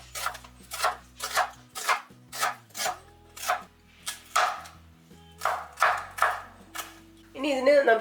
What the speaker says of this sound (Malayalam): അപ്പൊ ഇത് നമുക്ക് ചെറുതായിട്ട് അരിഞ്ഞു കൊടുക്കാം